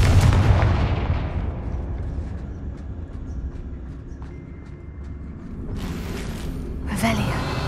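Confringo, an explosive spell cast in the video game Hogwarts Legacy, opens with a loud, booming blast that rumbles away over several seconds. Two more sharp bursts crack out near the end.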